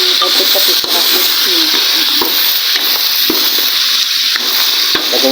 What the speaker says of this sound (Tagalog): Susunod natin yung hipon. Yan, haluin ng konti.